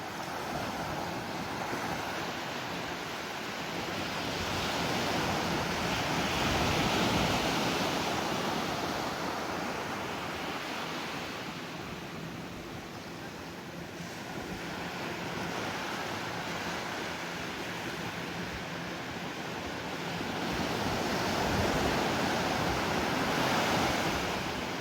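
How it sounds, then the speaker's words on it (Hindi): Arabian Sea waves roll in steadily as a broad, continuous wash of surf, swelling and easing in slow cycles, with wind buffeting the microphone and no voices. "लहरें एक के बाद एक अनगिनत, कभी ना ख़त्म होने वाली आती ही रहती हैं।"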